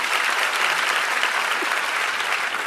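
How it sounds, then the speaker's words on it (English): Seminar audience in Singapore claps for a mentor, a full, even wash of applause from a large room that holds steady throughout. "can I use your hand to applause for our mentor, Ms. LilianOng, for the fantastic sharing just now?"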